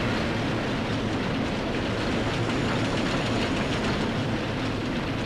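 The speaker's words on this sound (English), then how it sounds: "Here's a daytime view on the monorail." A monorail train in the RollerCoaster Tycoon 3 theme park game rolls along with a steady, dense rumbling clatter that never lets up, with no voices over it.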